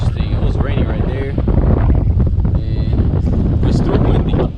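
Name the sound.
wind on a boat on the water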